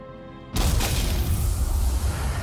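An explosion in the video game Pathfinder: Wrath of the Righteous bursts in suddenly after a low humming tone and becomes a loud, sustained, rumbling roar that keeps going to the end.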